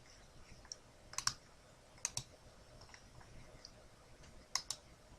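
Computer mouse clicked a handful of times in quick pairs and singles, sharp little ticks spaced irregularly over a quiet room background.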